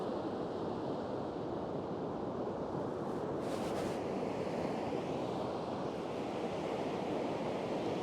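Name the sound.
ocean waves breaking on sandbars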